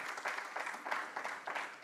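An audience applauds a prize winner at a local investment awards event in Blois, a brisk, steady burst of many hands clapping in rhythmic waves, close and fairly loud.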